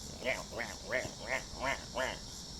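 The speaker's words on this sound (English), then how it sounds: "I even love the sound of the cicadas." Faint cicadas chirp outdoors in a steady rhythm, about six evenly spaced buzzing pulses against a quiet background.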